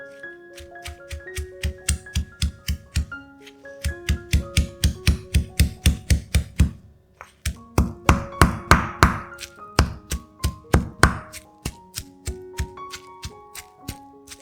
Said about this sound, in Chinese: 全部辣椒干剪成小段后，放入中锤里捣碎。